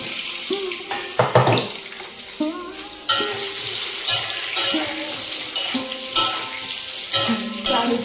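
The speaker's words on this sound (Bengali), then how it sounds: "আলুটা ভাজতে দিয়ে দিই কড়াইয়ের মধ্যে।" Boiled potatoes fry in a kadai wok with a steady sizzle, broken by clattering stirring bursts and splashy, watery textures, over faint tonal sounds in the background.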